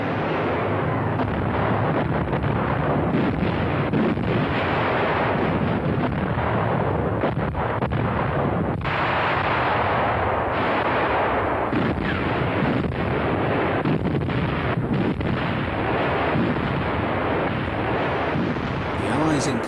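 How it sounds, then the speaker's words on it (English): German 88 mm gun batteries firing a dense artillery barrage, a continuous loud rumble of overlapping blasts and booms with wind-like roar, sustained throughout without letup. "The barrage thrown up by the German batteries, expending a prodigious amount of ammunition"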